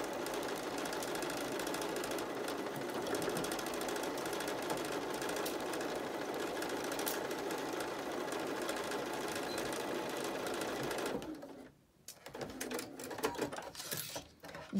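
A sewing machine runs a quarter-inch seam across a fabric face mask, a loud continuous close mechanical whir for about eleven seconds that halts abruptly, followed by a few scattered handling knocks.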